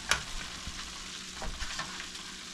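Pieces of razor clam frying in a pan, with a steady broadband sizzle and a few soft pops and stirring scrapes, close and moderately loud, with no talking.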